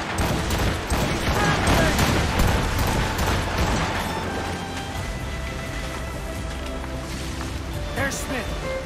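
Musket volleys crack out in Assassin's Creed Rogue, a dense battle din of gunfire layered with shouted commands and ship noise, loudest early on and easing into a steady rumble.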